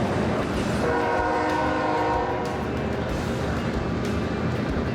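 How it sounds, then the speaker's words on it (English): A loud, steady rumble of a train passing on an elevated bridge by the St Croix River, with a sustained horn blast sounding early on, then the rolling noise continuing to the end. "Trains on an elevated bridge, I think it's just noisy."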